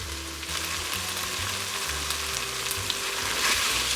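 Ratatouille vegetables with white beans and oregano sizzle steadily in a pan, a continuous close frying hiss with occasional stirring scrapes and a low hum beneath, no voices.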